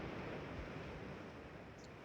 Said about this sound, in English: Just an infinite ocean.